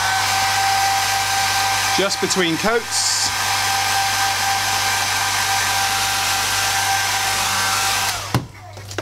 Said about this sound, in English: if you wanted to, you could literally hit it with a dryer